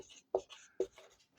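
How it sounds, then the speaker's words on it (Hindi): Chalk or marker writing out a maths question on a board in a physics class, with short scratchy strokes and a couple of louder taps, close and without talk. "मैं क्वेश्चन लिख देता हूँ"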